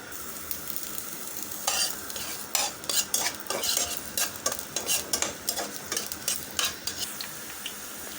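Onion is dropped into hot oil in a pan for a beef-fat khichuri and fries with a soft sizzle, while a spatula scrapes and clicks against the pan in quick irregular bursts, close and without speech.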